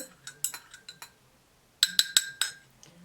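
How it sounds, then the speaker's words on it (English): A metal spoon stirring hot tea in a small cup, giving a series of bright, close clinks against the sides. There are two bursts of tapping, the second more rapid and louder than the first. "I have a spoon here. I'm going to give it a stir."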